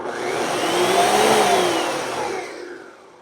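A blender whirs through vegetable soup ingredients in a short spin, its motor whine rising steadily, holding loud for a moment, then winding down and fading out at the end.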